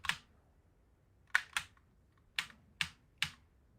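Computer keyboard with sticky keys being typed on: six sharp, isolated clicks at uneven intervals, close and fairly quiet, with silence between presses.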